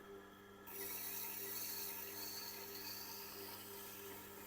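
A knife edge is honed on a Tormek hone, a steady faint rubbing whir with a continuous motor hum throughout, getting slightly stronger after the first moment.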